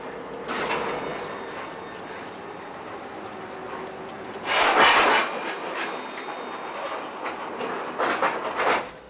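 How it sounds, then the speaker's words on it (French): Ore train on the Malmbanan line, pushed by a CC diesel locomotive of the T46 series, rolls past with steady rumbling and rhythmic wheel clatter, swelling louder midway and again near the end. "Le déchargement de cette rame, poussée par une CC diesel de la série T46, est entièrement automatisé."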